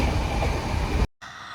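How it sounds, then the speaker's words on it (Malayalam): An Indian Railways passenger train runs steadily with a continuous low rumble heard from onboard, cut by a brief dropout near the end before the rumble resumes more quietly. "അങ്ങനെ ട്രെയിൻ പറന്നടിച്ച് പോയിക്കൊണ്ടിരിക്കുകയാണ്."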